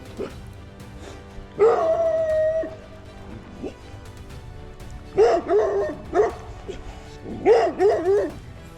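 A dog out in the countryside along a bikepacking route barks and yips in three separate bursts, fairly close and loud, with short whimpering tones and quiet gaps between the outbursts.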